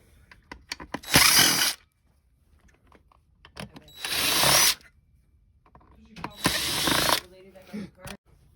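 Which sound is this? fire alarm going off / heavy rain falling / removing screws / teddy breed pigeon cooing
removing screws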